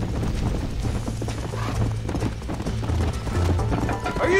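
Horse hooves clip-clop at a steady gallop in Red Dead Redemption, with a brief neigh or whinny rising over the dense, continuous hoofbeats and game ambience.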